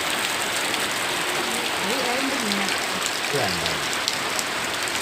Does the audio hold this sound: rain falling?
yes